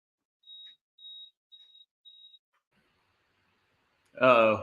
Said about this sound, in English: You better change that smoke detector.